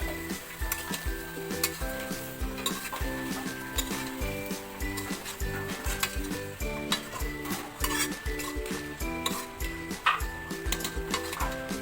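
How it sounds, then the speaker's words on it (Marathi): Mixed vegetables with a turmeric tempering sizzling in a pan while being stirred, with repeated close scrapes and clatters of a utensil against the pan over a continuous fry, under faint tonal background sounds. "आता हे संपूर्ण आपण हलवून घेऊ।"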